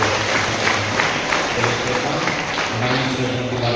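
A church congregation applauds a family during a Tuesday devotional service, a dense, steady patter of many hands at moderate loudness, with a voice speaking over the clapping.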